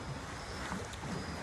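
Water laps at Fort Washington Park after sunset, with a continuous wash of waves and wind buffeting the microphone at a steady moderate level.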